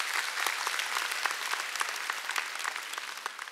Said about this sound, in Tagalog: Pwede ko bang marinig ang palakpak ng mga susunod sa Panginoon?